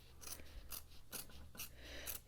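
Sharp scissors snipping through fabric while making a button pumpkin craft, several crisp quiet cuts in an irregular rhythm, close and alone.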